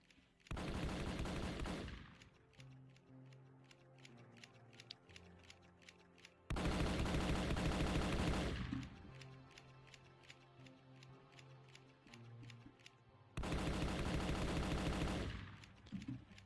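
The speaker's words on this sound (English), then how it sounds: "I gotta spend all my bullets again." Bursts of rapid automatic gunfire in the zombie video game Final Stand 2, three loud sustained volleys each lasting about two seconds, separated by quieter stretches of clicking game sounds.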